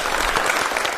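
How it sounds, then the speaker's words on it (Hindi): A short burst of applause from an audience at a talk session, dense clapping filling the moment, close and fairly loud. "एक अच्छे पार्टनर के लिए खूब सारी तालियां।"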